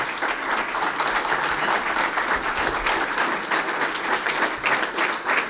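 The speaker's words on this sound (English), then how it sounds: "Can we have everybody stand up and give a round of applause for Ibne Abbas Saab?" A standing audience at a formal farewell dinner for a Pakistani High Commissioner gives sustained, dense applause, with loud, even clapping throughout and no speech over it.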